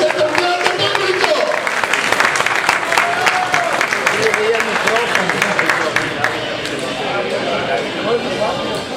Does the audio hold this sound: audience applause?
yes